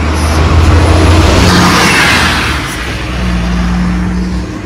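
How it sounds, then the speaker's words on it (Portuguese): A bus passing along a quiet street in Leiria, Portugal: a loud, close engine rumble that swells and holds steady, then eases slightly and rises again as the vehicle goes by, with no talk over it. "Passou o ônibus."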